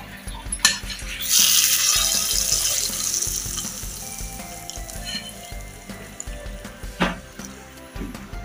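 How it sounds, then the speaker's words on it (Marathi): Leaves are rinsed under a running kitchen tap. A strong, hissing gush of water bursts in early and then settles into a steady splash with a few light knocks. "तर गॅस बंद करून पत्त्याची पानं धुवून देते."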